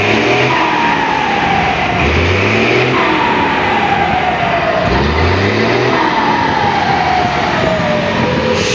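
A Mercedes-Benz 1721 turbo tour bus engine, its turbo fitted with a modified exhaust, revs hard three times, each rise in pitch ending in a loud turbo whistle over a continuous rumbling idle.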